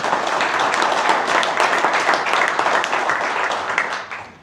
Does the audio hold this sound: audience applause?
yes